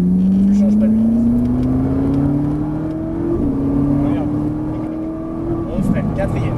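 A Ferrari 458 Italia at full throttle on a track, its engine note rising steadily through a long pull, briefly dipping at a shift and climbing again, loud and close inside the cabin with an instructor talking over it.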